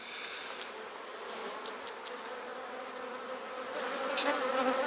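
Honey bees swarm and buzz around an opened hive as frames are lifted out during an inspection, a steady, dense droning hum close by with no talking.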